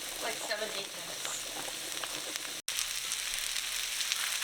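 Onions and mushrooms fry in a pan for a Salisbury steak, a steady close sizzle with faint crackles that continues evenly, broken only by a split-second gap.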